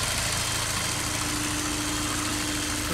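A Honda S2000 (AP1) engine idles steadily in the engine bay, a close, even low hum with a constant tone and no voices, fairly loud throughout.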